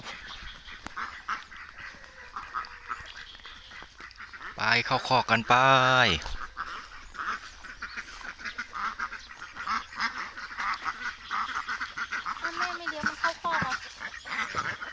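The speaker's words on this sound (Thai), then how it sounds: "นี่พามาชมน้องเป็ด ให้อาหารน้องเป็ดอีเหลียงนะครับ" A flock of white laying ducks quacks while being fed, a loud burst of raucous quacking rising briefly amid softer calls, with someone speaking throughout.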